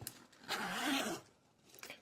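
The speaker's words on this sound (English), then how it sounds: "we have this cool looking little zipper thing that you can move" The zipper on an Ultimate Guard QuadRow Zip Folio card binder gives a single soft, close rasping pull lasting about half a second, followed by faint handling noise.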